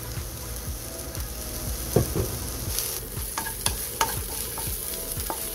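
White cooking oil heats in a preheated pressure cooker for dal, a close, steady sizzle and crackle punctuated by a few sharp metallic clicks.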